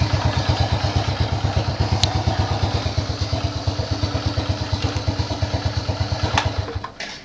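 Old original Honda Astrea Star motorcycle engine idling steadily after a kick start, a close, loud rhythmic single-cylinder putter with faint clatter, running evenly alone before cutting off near the end.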